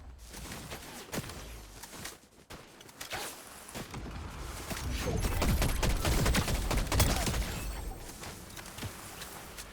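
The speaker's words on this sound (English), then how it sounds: "Either someone is shooting at someone else" Fortnite gunfire crackles in a steady stream of sharp reports, some distant and some closer, swelling into a denser, louder volley in the second half with footsteps scattered between the shots.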